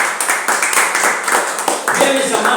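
A church congregation claps together in a steady, rhythmic patter at close range, with voices mixed in under the clapping throughout.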